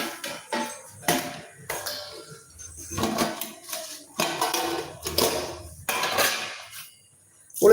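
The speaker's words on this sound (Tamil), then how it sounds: "நம்ம அடுப்பில் ஒரு வடச்சட்டி வச்சு எண்ணெய் ஊற்றிக்கலாம்" A metal kadai is set on the stove for a brinjal stir-fry, with a series of separate clanks, knocks and light clinks at close range and brief quiet gaps between them.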